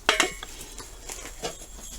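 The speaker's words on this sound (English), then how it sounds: "It's an old tea kettle." An old metal tea kettle handled among junk in an abandoned dairy farm: a couple of sharp metallic clanks up front, then lighter scattered clinks and rattles, close and moderately loud, with no talk.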